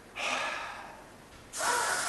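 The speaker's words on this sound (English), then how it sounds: "I'm going to breathe out, breathe in the gas, and then speak to you." A sharp inhalation of helium gas during a school demonstration, two distinct breathy intakes a moment apart, close and fairly loud with no talking.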